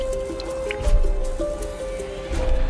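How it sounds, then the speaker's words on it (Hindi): Water leaking from a cell above drips into a light fixture, with soft irregular drips and squishy splashes over a humming, droning background. "मेरे ऊपर वाले सेल से मेरी लाइट में पानी लीक हो रहा था,"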